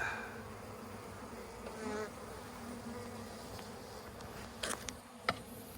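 Honey bees buzzing around an open hive during an inspection, a dense, continuous close-up drone with a few brief louder knocks and handling sounds near the end.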